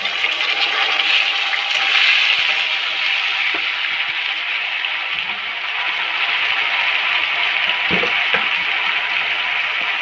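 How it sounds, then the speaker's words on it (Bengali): Onion dropped into hot oil after fried potatoes, cardamom and cloves, producing a steady loud hiss of frying with a few faint clicks of a spatula, no one speaking. "আলুটা ভাজা হয়ে গেছে, এবার পেঁয়াজটা দিয়ে দিচ্ছি।"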